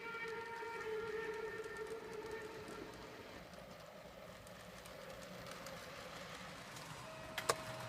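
A model express passenger train rumbles past steadily with a faint high whine, fading slightly as it goes, and a couple of sharp clicks near the end.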